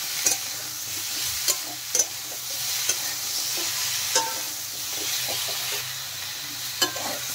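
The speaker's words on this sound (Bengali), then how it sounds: "ভালো করে এখন আমি ভেজে নেব।" Vegetables seasoned with salt and turmeric sizzle steadily in a pan for sambar dal, with a continuous frying hiss broken by occasional sharp clinks of stirring. No one talks.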